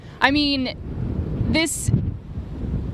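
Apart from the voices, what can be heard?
strong hurricane wind blowing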